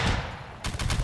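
Gunfire in a Civil War video game, a burst of sharp rifle shots, the first blast fading into rumble before a quick volley of further cracks, loud and close with no talk.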